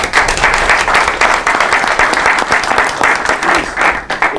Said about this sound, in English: So I just want to give you an applause for that.